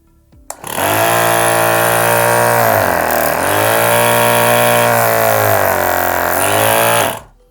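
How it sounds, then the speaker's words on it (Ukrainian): A Huragan H5 12-volt car air compressor switches on and runs with a loud, steady mechanical drone close by. It holds an even level for about seven seconds, then cuts off. "Давайте під'єднаємо компресор на живлення 12 вольт. І послухаємо, як він буде спрацьовувати."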